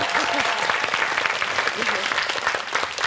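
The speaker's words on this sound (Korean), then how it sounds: "여러분 박수 한번 보내주세요." Steady, dense applause from a television studio audience fills the space close by, with a voice briefly audible under it.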